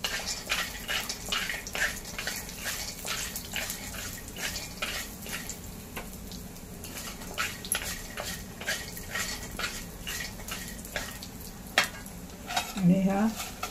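Peanuts and a spoonful of coriander seeds roasting in a pan for garlic-coconut chutney, with a steady patter of light rattling and scraping as they are stirred, faint and close, while someone talks over it.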